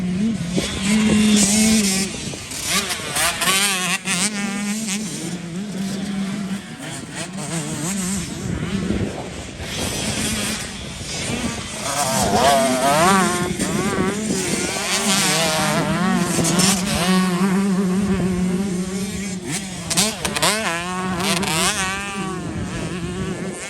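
A motocross bike races down the long straightaway beside the track, its engine howling loudly with rapidly rising and falling pitch as it shifts and revs, continuous for the whole stretch.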